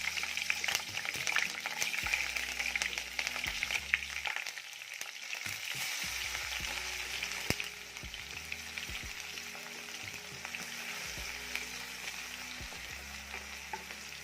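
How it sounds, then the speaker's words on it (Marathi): Garlic and chillies fry in hot oil for a safflower leaf vegetable dish, a loud, continuous sizzle close by, punctuated by repeated scraping stirs that pause briefly midway before the frying carries on. "तर लसूण मिरची टाकल्यानंतर छान असं करपूस लसूण भाजून घ्यायचं आहे."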